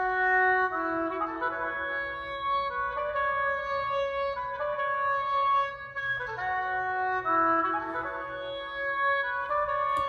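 Layered melodic music sample run through the Guitar Rig Durbinville drums preset with a phaser, sustained tones shifting in repeating phrases, steady and alone with no voices.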